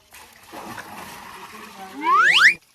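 Water is poured out of a container and splashes steadily for about two seconds, close and fairly loud, ending with a rising squeal as people talk nearby.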